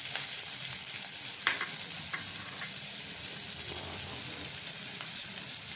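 Chopped onion sizzling steadily in hot oil in a pan, stirred now and then with soft scraping clicks, a close continuous frying hiss with no talk, cooked alongside cabbage for a quick sabji.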